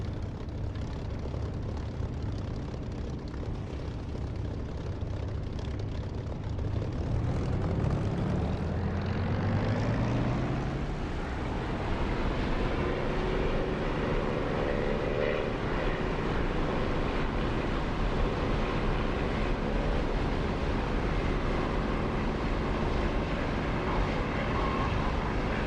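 A fixed-wing aircraft in the DCS flight simulator spools up and rolls for takeoff, its engine roar rising in pitch and swelling loud and steady, then holding a continuous drone as it climbs away.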